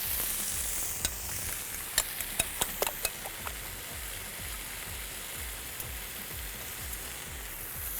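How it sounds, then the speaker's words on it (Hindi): Eggs frying in hot oil in a pan give a steady, close sizzle throughout, with a few sharp ticks and pops of spattering oil and no talking. "आपने अंडे को इस तरह से कुक होने के लिए पैन में रख दिया"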